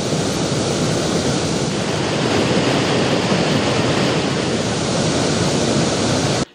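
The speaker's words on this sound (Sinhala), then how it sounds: "පරාක්‍රම සමුද්‍රයේ වාන්දුරුට 10ම විවෘත කර ඇති අතර ඉන් මුදා හැරෙන ජල ප්‍රමාණය තත්පරයකට ඝන අඩි 2150ක්" All ten spill gates open at the Parakrama Samudra reservoir in Polonnaruwa, releasing about 2,150 cubic feet of water per second, a loud, unbroken roar of gushing water that holds steady and then cuts off abruptly.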